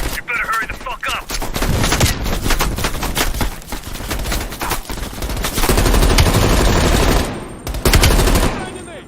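Loud, heavy machine gun fire from the video game Call of Duty Black Ops Cold War, long dense bursts pounding close by, with brief pauses and some speech underneath.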